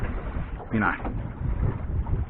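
Wind blows across open water on a fishing boat, a steady low roar and buffeting on the microphone, with a voice talking briefly over it.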